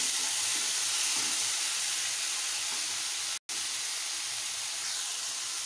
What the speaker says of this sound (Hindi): इसे हम ऐसे ही 5 मिनट तक मीडियम आंच पे चलाते रहेंगे